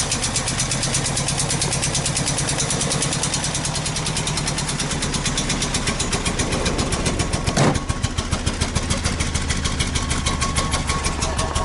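A car engine cold-starts on a 45-degree day and settles into a loud, close, steady idle with a fast even pulse, a brief catch or blip near the end before the rhythm carries on.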